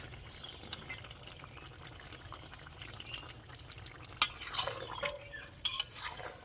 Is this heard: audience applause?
no